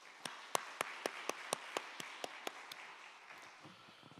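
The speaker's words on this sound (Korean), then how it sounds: "우리 한인영 집사님 박수해 주시기 바랍니다." A church congregation applauds a deacon during a Sunday service, a light, fairly thin round of claps with a steady rhythm of distinct slaps over a soft crowd wash, fading out after a few seconds.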